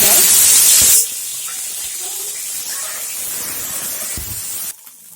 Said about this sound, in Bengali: মটরশুঁটিগুলো একটু ভেজে নেব কড়াইয়ে দেখুন অল্প একটু তেল দিয়েছি মটরশুঁটি ভাজার জন্য